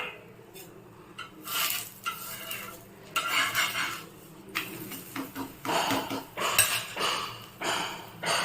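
A ragi and grain dosa being flipped on a pan, with repeated metallic scrapes and clinks of a spatula against the hot surface in short, uneven bursts, no speech.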